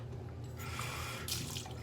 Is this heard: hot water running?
yes